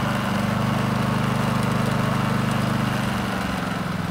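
Westinghouse iGen4500 dual fuel generator in eco mode, its engine throttling down from a steady drone to a lower, softer hum near the end, close and continuous with no voices.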